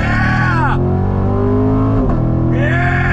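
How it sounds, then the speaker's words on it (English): A Chevrolet Corvette Grand Sport accelerates hard with a loud, close exhaust roar, the pitch climbing through the gears with a shift in the middle and a brief break in the sound before it rises again. "Love the sound of that freaking exhaust."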